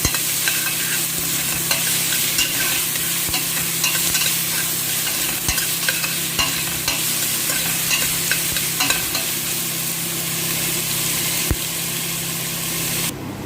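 Ginger and onion frying in a pan, stirred with a utensil while preparing marag vegetables; a loud, continuous close sizzle with repeated scraping and clacking stirring strokes throughout.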